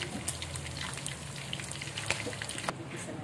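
Blue marlin fish steak sautéing in a pan gives a steady, crackling sizzle with scattered sharp pops, close and fairly even throughout.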